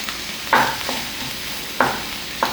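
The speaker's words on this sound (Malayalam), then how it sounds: "കുറച്ച് ഉപ്പും കൂടി ചേർത്ത് വഴറ്റി കൊടുക്കാവേ" Sliced onions with salt sauté in a pan for chilli chicken, a soft steady sizzle broken by three sharp scraping stirs of a spatula, close and without talk.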